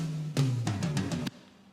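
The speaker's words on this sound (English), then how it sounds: "the main drum fill for the drop sounds like this" A short EDM drum fill for the drop, with a quick run of punchy hits over a low bass tone that stops abruptly, leaving a faint tail.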